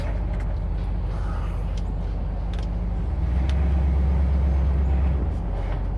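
An old, beat-up truck drives along with a loud, steady low engine rumble and road noise that grows heavier for a few seconds midway, heard from inside the cab with no one speaking.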